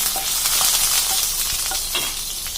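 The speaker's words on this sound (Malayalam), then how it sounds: "രണ്ട് കഷ്ണം പട്ട ഗ്രാമ്പു ഏലക്കായ അതും കൂടെ ഒന്ന് ചേർത്ത് കൊടുത്ത് ഒന്ന് വഴറ്റിയെടുക്കാം" Cinnamon, cloves and cardamom sizzle in hot oil with fennel at the start of a Kerala egg roast, a steady close crackling fry with small pops and stirring throughout, no voices.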